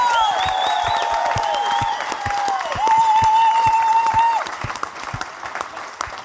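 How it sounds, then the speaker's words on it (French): A crowd applauds and cheers for Pierre at a roast, loud sustained clapping with whoops and a voice-like tone riding over it, tapering off toward the end. "Applaudissez-le, s'il vous plaît"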